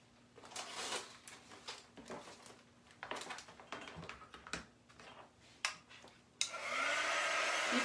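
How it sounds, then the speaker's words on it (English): A quick dry tool runs on a heat transfer in a DIY craft project. It starts with scattered taps and clicks, then gives a steady, close blowing hiss that carries on to the end. "I'll just use the quick dry tool to dry it really quickly"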